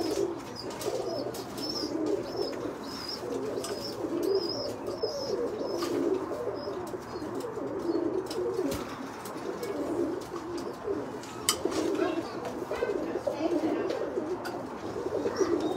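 Pigeons coo repeatedly in a loft, soft rhythmic murmurs layered over a steady background hum with occasional sharp clicks and light chirps.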